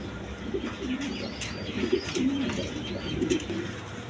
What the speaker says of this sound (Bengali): দর্শকবৃন্দ, এখানে এক পেয়ার কোকা কবুতর আছে।